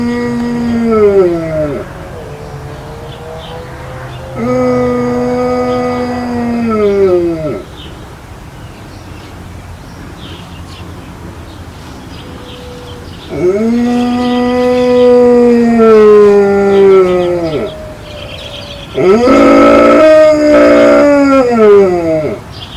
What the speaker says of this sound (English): Vicious guard dog.